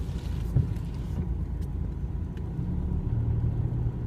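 A BMW 320d E90 with the N47 diesel engine runs cold, giving a steady mid-pitched engine rumble and a faint repetitive knock, heard alone and fairly close.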